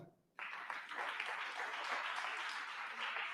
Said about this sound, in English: If you believe you made the right choice, then what about clapping for yourself?